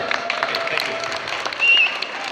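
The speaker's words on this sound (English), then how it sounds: "Okay, an applause for the volunteers." Applause from an audience at a chemistry experiment show at a school exhibition, a steady wash of clapping with a brief whistle-like tone near the end.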